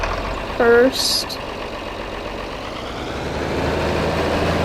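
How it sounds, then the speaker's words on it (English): A Massey Ferguson 40-20 tractor engine idles with a low, steady rumble, a brief voice heard near the start before the engine drone continues alone. "just because it's an iconic tractor with this planter"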